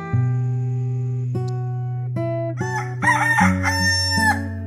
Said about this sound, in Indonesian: Suara ayam jantan berkokok